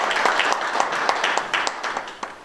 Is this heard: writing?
no